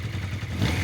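A 1983 Honda CB650 Nighthawk motorcycle idling roughly after more than ten years of sitting, its carburetors out of sync, with a low steady engine rumble that swells slightly toward the end.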